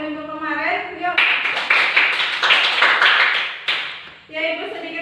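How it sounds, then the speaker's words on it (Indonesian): A class clapping hands in a classroom, several short bursts of brisk rhythmic group clapping, with someone speaking before and after. "Kita tepuk tangan"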